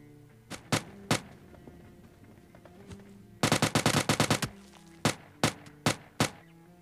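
Gunfire in PUBG Mobile Lite during an Uzi-only challenge: sharp single shots, then a rapid automatic burst and more spaced shots, loud and close over a low game background, with no talking.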